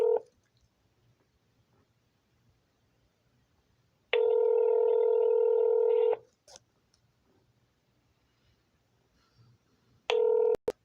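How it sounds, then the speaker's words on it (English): A telephone ring tone sounds in two long bursts separated by quiet, with a short third burst at the end, like ringing heard on a call. "It's been ringing a while."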